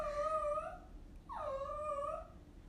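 A dog howls in two long, wavering tonal cries with a gap between them, close and clear over a quiet room during a mesh wreath craft session.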